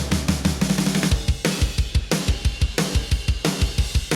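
A mixed drum kit with a punchy, processed kick drum plays a busy groove, tight kick hits under bright crashing cymbals and snare, loud and up close with no voices.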